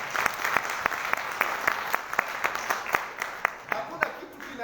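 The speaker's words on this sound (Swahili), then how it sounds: "Tupigie makofi jamani" Congregation clapping in unison at a Sunday church service, sharp rhythmic claps at a steady beat over a soft crowd wash, with a voice faintly beneath.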